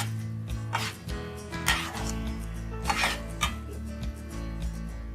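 A spoon stirs and scrapes spices in a pan for vegetable masala khichdi, giving intermittent metallic scraping and clinks over a steady low kitchen hum, moderately close.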